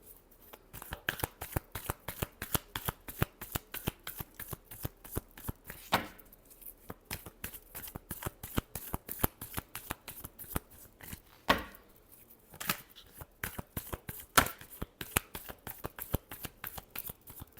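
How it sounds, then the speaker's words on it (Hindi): A deck of tarot cards is shuffled over and over, with rapid, crisp riffling clicks in quick bursts and a few brief pauses, close and moderately quiet, with no talking. "चलिए लास्ट शफल"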